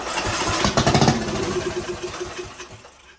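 A lawn mower engine fires up on starting fluid, a loud rough burst of rapid combustion pulses that sputters and fades over about three seconds, with no talk.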